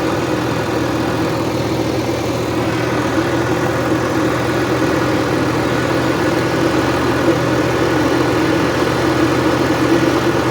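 A T-150 tractor with a Romanov engine runs steadily and loudly close by, a constant low rumble with no pauses and no talk over it.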